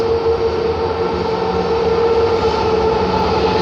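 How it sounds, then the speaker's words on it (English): A train rolls steadily past, a continuous loud rumble and rail noise with a faint squeal, close by and unbroken for the whole span, with no voices. "Children, wait. Train is moving."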